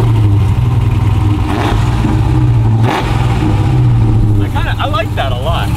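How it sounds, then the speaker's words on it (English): A supercharged Dodge SUV engine revs loudly up close, with a low throbbing note and a thin supercharger belt whine, while people talk over it. "I instantly heard the belt of the supercharger up there kind of whine"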